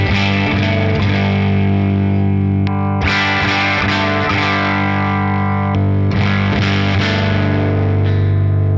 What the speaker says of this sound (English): this is our bass sound with just the amp. No delay, no reverb, no overdrive, no nothing